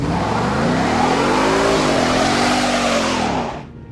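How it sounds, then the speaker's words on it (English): A 2016 Ford Mustang engine revs hard and accelerates, a loud, sustained roar with rising and falling pitch that stays close for nearly four seconds before cutting off abruptly. "This is the new Ford Mustang, and this is what it does."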